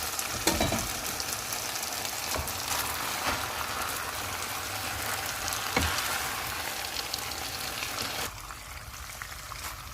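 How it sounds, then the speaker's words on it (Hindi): Spaghetti and chicken stir-fried in a pan with onions give a steady, close sizzle with scattered scraping stirs, dropping slightly quieter near the end. "अब हम इसमें स्पैगेटी को मिक्स कर लेते हैं।"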